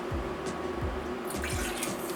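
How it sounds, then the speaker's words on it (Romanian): Water runs steadily into a saucepan in a home kitchen while a chocolate cake is being made, a continuous close splashing stream with a few faint clinks, no voices over it. "Într-o cratiță punem apa"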